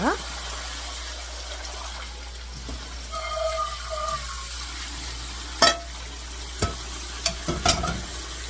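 Boiled water dropwort is tipped from a pot into cold water, a brief splashing pour followed by a few clanks and knocks of kitchenware, with someone speaking quietly at times.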